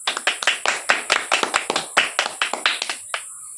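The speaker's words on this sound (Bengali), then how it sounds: "চলো দিদির জন্য সবাই হাততালি দাও।" An audience on the Didi No 1 game-show stage claps for a contestant, a close, crisp burst of roughly twenty distinct hand claps in an uneven rhythm that stops abruptly near the end.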